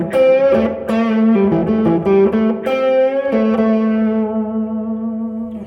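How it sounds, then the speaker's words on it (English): An electric guitar played through a reverb pedal plays a short melodic phrase with a lush reverb tail, notes ringing out and sustaining as the last chord fades. "If I turn my reverb back on, it sounds a little."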